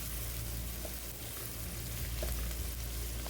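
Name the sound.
stirring bay leaves and peppercorns in a pan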